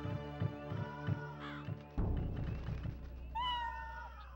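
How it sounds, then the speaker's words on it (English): A cat meows in the Inuyasha: Secret of the Cursed Mask video game, a short rising-falling cry near the end, following rhythmic thuds and caw-like game effects. "Oh, it's a cat!"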